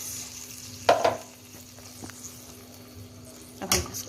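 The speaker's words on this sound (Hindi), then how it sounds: "अब हम इसको इस तरीके से घुमा लेना है" Beef with onion and oil is being stirred with added water in a cooking pot for Kabuli pulao, giving a few scraping knocks and sloshing movements over a soft background hum.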